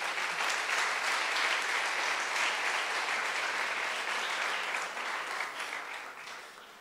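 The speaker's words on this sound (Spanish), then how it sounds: "Den un aplauso al Señor" A church congregation gives a long, dense round of applause to the Lord, steady and full for several seconds before thinning out toward the end.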